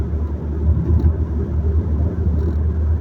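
Interior cabin drone of a 2014 Volkswagen Passat 1.4 TSI cruising in fifth gear, a steady low engine and road rumble, close and even, with no talking.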